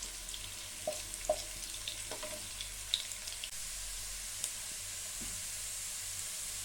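Ginger frying in a pan for dry chilli chicken, a steady faint sizzle with a few soft clinks and stirring scrapes, no voices.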